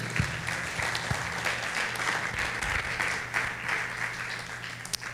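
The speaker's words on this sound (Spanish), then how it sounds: "Dale un aplauso al Señor." Congregation at a Sunday church service applauds, a dense, sustained wash of clapping that fills the room for several seconds with a steady low hum beneath it.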